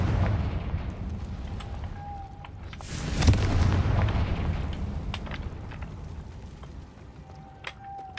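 A Confringo fire spell from the Hogwarts Legacy video game bursts into a loud, booming blast partway through, rising out of a rumbling game backdrop and then fading away.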